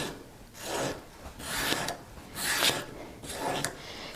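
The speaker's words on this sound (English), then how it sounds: "this is just a 30 micron sanding or polishing paper" Rhythmic back-and-forth rasping of 30 micron polishing paper sanding oxide off a Foredom hammer handpiece anvil point, four close strokes in a steady rhythm with brief pauses between them.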